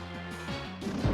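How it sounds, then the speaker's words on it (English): Earthquake move effect from the Pokemon Ultra Sun video game: a brief rumbling crash that builds to a heavy smashing impact at the end, with no talking. "That's exactly the sound of an earthquake."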